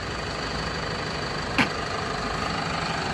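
A 2005 Freightliner diesel step van box truck idles with a steady, even rumble, close and continuous, broken only by one short click.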